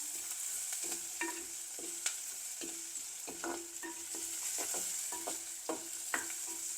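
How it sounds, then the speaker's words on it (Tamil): Shallots, onions and garlic sauté in a clay pot for fish curry, a soft steady sizzle broken by repeated scraping strokes of a spoon against the pot, quiet and close, with no talk. "வெங்காயம் பூண்டு சின்ன வெங்காயம் பெரிய வெங்காயம் சேர்த்து பூண்டும் சேர்த்து நல்லா வதங்க விடுறோம்"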